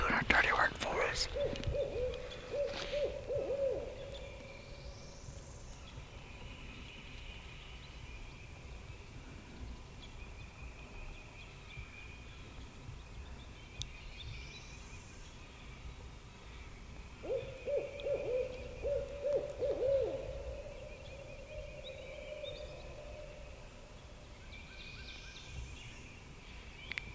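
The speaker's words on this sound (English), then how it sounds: "Got an owl doing our dirty work for us." An owl hoots repeatedly in the woods during a spring turkey hunt on a cold morning, its calls faint and distant against quiet outdoor ambience, with a louder burst near the start and another series around two thirds through.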